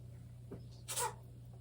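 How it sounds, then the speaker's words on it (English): A cat's small, quick sneeze, close and faint, over a low steady hum; a soft brief sound comes just before it. "Kitty sneezed."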